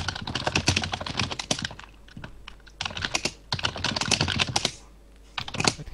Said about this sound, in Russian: Это как я слышу, как ты печатаешь.